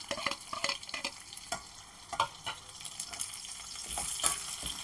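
Sliced onions and small-cut garlic sauté in a pan for Pallipalayam chicken, with a run of close spatula scrapes and stirring taps over a quiet sizzle that grows louder near the end.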